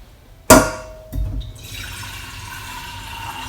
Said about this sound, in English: Hot water out of your tap.